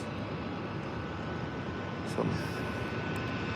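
Jet airliners taxi past at Tampa International Airport during a busy morning rush, a steady broadband engine rumble and whine held at a moderate distance, with a faint swell partway through.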